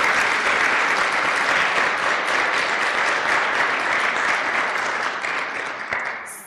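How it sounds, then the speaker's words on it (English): A large audience at the Enactus World Cup championship final gives a big round of applause: dense, loud, steady clapping that holds for several seconds, then thins and fades out near the end. "Big round of applause"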